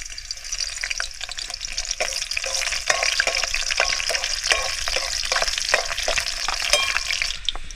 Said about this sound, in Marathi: तेल थोडंसं तापू देत तर ही टाकली इकडे लसूण ही मिरची